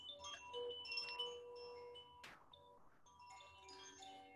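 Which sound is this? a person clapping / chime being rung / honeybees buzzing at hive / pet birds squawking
chime being rung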